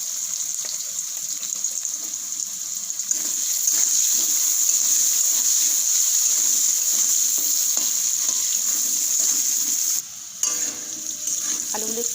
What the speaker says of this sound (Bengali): আলুগুলো তেলের মধ্যে দিয়ে দেবো।